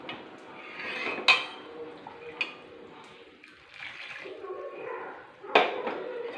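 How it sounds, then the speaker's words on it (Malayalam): Water pours from a mixer jar into a cooking pot of curry, with a soft trickling between sharp metallic clanks of the jar against the pot. "നമുക്ക് ആവശ്യമുള്ള ചാറിനുള്ള വെള്ളം നമ്മൾ മിക്സി ജാർ വഴി ഇതിനകത്തേക്ക് ഒഴിച്ച് കൊടുക്കാം"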